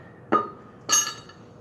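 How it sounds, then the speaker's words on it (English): Two short clinks as metal bolts are set down beside a Ferris mower's 52-inch deck during chute blocker installation, close and fairly faint with a quiet pause between them. "Collect your bolts and just lay those to the side."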